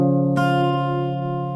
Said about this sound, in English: And then you're gonna play the C, it sounds like this.